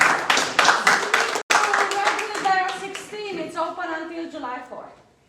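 A live poetry reading audience claps, a brisk burst of handclaps that is cut off abruptly and then tapers into scattered claps under speaking voices.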